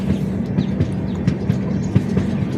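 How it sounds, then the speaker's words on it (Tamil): A passenger train on the Mumbai–Chennai line rolls into Guntakal station with a steady, loud rhythmic clatter of wheels over rail joints, heard from on board. "நம்ம வண்டி இப்போ குண்டக்கல் ஸ்டேஷனுக்குள்ள நுழைய போகுது"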